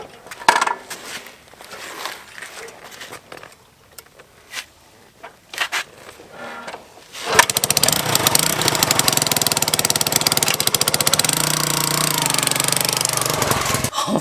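A restored 1971 Honda motorcycle engine fires up after quiet handling noises and then runs steadily and loudly for several seconds, close by, with a rough, rapid mechanical chatter.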